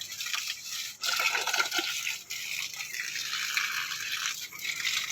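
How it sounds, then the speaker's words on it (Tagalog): Water pouring and splashing steadily onto plants being watered, with a couple of brief pauses and a soft hiss of spray throughout. "Dinadamihan ko talaga ang pagdilig."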